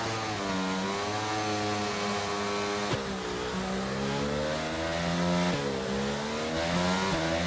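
A Formula 1 car engine in the 2022 video game revs high at the race start, rising pitch sweeps repeating as gears climb, loud and continuous with no talking.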